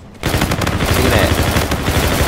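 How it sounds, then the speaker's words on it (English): Gunfire in the Call of Duty Infinite Warfare video game: a loud, continuous stream of rapid automatic shots that starts abruptly and hammers on close and steady for a couple of seconds. "Somebody shooting from behind."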